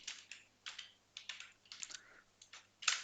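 Close, soft keystrokes on a computer keyboard come in short clustered bursts separated by brief gaps, with a faint low hum underneath and no voices.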